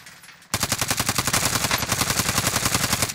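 Automatic gunfire rings out in Call of Duty Warzone. After a brief quiet start, it becomes loud, sustained and rapid, with an even rhythm of shots that continues to the end.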